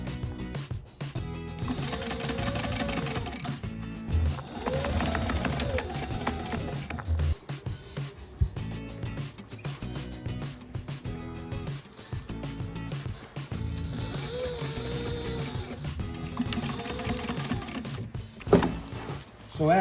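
Sewing machine top-stitching a vinyl boat cushion, its motor whirring in repeated bursts with short pauses between runs, a voice talking over parts of it.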